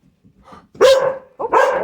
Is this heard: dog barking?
yes